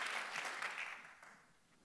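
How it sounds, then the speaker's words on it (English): Audience applause at a concert, a dense wash of clapping hands fading steadily over a couple of seconds, no talking. "Thanks so much for the applause."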